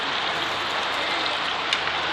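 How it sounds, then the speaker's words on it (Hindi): Heavy rain pours steadily, a dense continuous hiss of drops striking surfaces, loud and unbroken. "क्योंकि बाहर बहुत बारिश है। आपको ऑलमोस्ट आवाज़ आ रही होगी"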